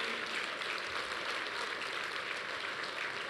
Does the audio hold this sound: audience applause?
yes